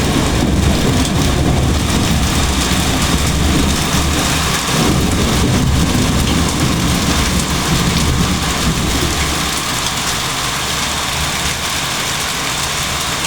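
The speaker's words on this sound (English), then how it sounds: "can see this is hail." Hail pours down in a storm in Maseru, Lesotho, a loud, dense, continuous pelting roar that holds steady throughout, easing slightly near the end, with no one talking.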